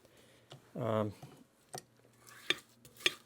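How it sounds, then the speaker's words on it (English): A rubber scraper works around the sides of a mixing bowl of sour cream cookie dough after the mixer is switched off, with a brief whir, soft scrapes and a few sharp taps against the bowl. "I turn this off and scrape down the sides"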